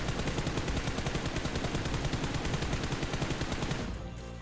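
Rapid automatic gunfire in the mobile shooter game BGMI, a dense continuous burst of loud shots that stops abruptly near the end, with no talking.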